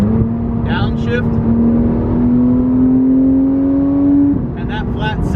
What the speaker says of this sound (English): and that flat six just screams behind your head